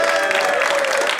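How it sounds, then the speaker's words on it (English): Dense, steady applause from a comedy show audience, loud and continuous throughout with no pauses, the crowd clapping together at close range. "Another big round of applause for all the comedians you've seen tonight."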